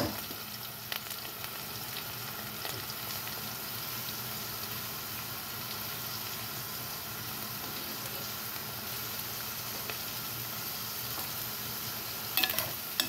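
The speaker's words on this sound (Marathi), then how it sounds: "बघा, देठही छान असे भाजून घ्या." Taro (aluchi) stems roasting in a hot pan give a steady, soft sizzle with occasional scraping stirs of a spoon, fairly close and even throughout, with no talking.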